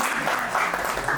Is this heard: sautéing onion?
no